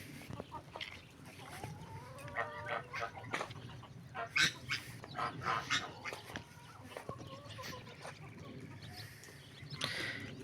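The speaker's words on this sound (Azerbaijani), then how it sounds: "Xoşum gəlir də bu xoruzdan." A rooster at a restaurant gives several loud, ringing calls amid clucking fowl and barking dogs, with scattered calls near and far and faint voices in the background.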